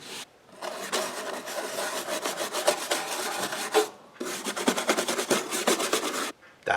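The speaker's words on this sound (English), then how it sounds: "I scrub a little bit. I could get this thing looking brand new." A brush scrubs a dirty part soaked in Super Clean degreaser, making close, rasping back-and-forth strokes in two long bursts split by a short pause.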